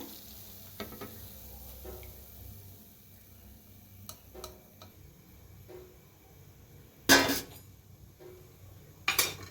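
Banana puris deep-fry in hot oil with a soft, steady sizzle, broken by a few sharp clinks and scrapes of a utensil against the pan.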